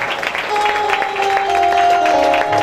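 Applause from an audience at a Sunday church meeting, a steady broadband clatter of many hands lasting a few seconds, with sustained musical tones running underneath.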